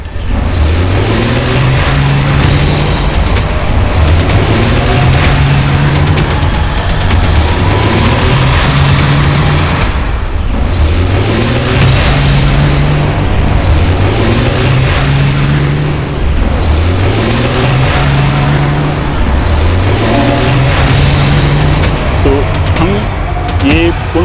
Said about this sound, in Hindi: चलिए गाड़ी स्टार्ट कर रहे हैं और हम चल रहे हैं पुनपुन की तरफ